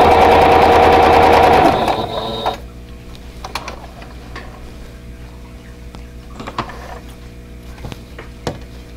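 A sewing machine stitches seams on a vintage Carolina Lily quilt block in a loud run of nearly two seconds, then stops, leaving faint handling clicks.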